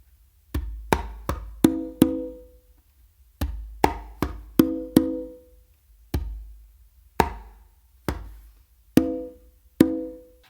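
Conga slappy tumbao pattern of bass, closed slap, finger and two opens, repeated three times as crisp hand strikes with ringing open tones, played solo and close.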